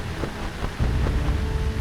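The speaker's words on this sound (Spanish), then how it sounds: "La lluvia se hizo más intensa." Heavy rain falls as a dense, steady wash that grows noticeably louder partway through, with no voices.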